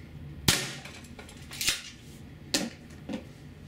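An APS CAM870 CO2 shotgun firing 0.68 calibre rubber balls, several sharp close pops spaced irregularly, each followed by a brief clack of the action, with no talking.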